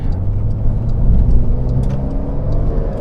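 A 2024 Porsche 911 Carrera 4S (992) drives through a corner, its engine a loud, steady mid-range drone with a low rumble that holds constant throughout.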